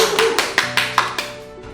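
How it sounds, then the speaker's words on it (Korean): Hands clap in a steady, even rhythm, about seven crisp claps spaced evenly and fading slightly, heard over a faint sustained tonal background. "이게 박수 쳐야 돼요"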